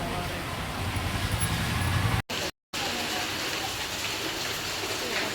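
Steady rain pouring down outdoors, a dense continuous hiss with a low rumble of passing traffic beneath, briefly cutting out for a moment before resuming.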